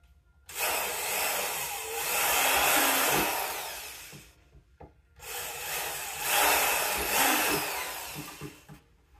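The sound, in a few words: power drill drilling holes in speaker cabinet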